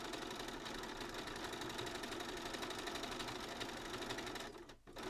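A sewing machine in need of servicing runs steadily with a fast, even mechanical whir and rattle, continuing for several seconds before briefly cutting out near the end.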